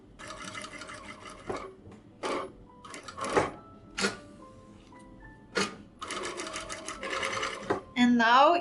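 A sewing machine stitches over gathered skirt ruffles in several close, whirring bursts separated by short pauses, with someone talking and a brief melodic jingle near the end.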